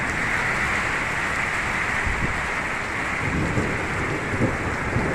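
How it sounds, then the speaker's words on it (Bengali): An unseasonal Kalbaishakhi thunderstorm over Jaipur in Bankura, West Bengal, with heavy rain giving a loud, steady broadband roar and low thunder rumbling beneath it throughout. "আপনারা শুনতে পাচ্ছেন যে বজ্রপাতের শব্দ এবং বিদ্যুতের ঝলকানি দেখতে পাচ্ছেন"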